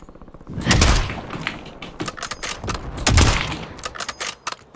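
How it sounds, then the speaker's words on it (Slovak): Bursts of rapid gunfire in an online shooter video game, two loud volleys with scattered single shots between them, close and sharp, with no talking. "niekto po ňom ešte strieľal iný"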